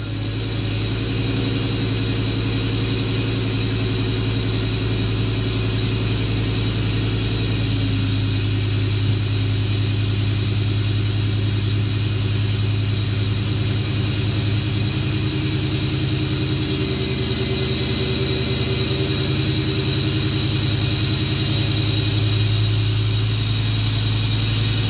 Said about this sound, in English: It is the air intake that makes this noise.